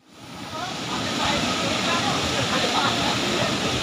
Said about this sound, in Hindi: जो नदी बह रही है इसके बाजू में हम खड़े हुए हैं।